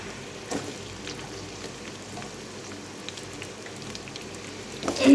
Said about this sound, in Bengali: মিষ্টি কুমড়োগুলো আমি আগে একটু ভেজে